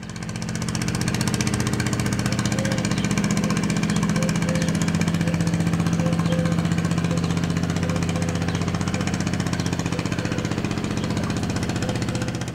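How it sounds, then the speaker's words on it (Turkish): A steady, loud motor drone chugs without pause, like fishing boat engines running close by on a lake, Lake Uluabat, with no voices. "balıkçı teknelerinin sesleri bütün gölde yankılanıyor"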